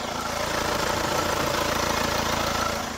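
A Hyundai Santa Fe 2.2 diesel engine idles steadily, recorded up close with the bonnet open, a smooth continuous rumble with a faint rhythmic knock, no talking.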